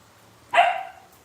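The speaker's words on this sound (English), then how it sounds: "I gotta make sure these damn dogs ain't out here." One sharp dog bark rings out nearby in an otherwise quiet outdoor setting, with a short fading tail.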